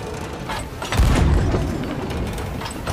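Ship cannon fire in a pirate video game: one heavy deep boom lands about a second in, followed by rumbling decay over a background of clattering game noise.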